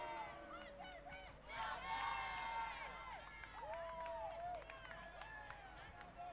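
A crowd cheering and shouting at an Ultitude versus Nomad sports match, a broad swell of voices with high calls and whoops rising and falling, steady and moderately distant under a commentator talking.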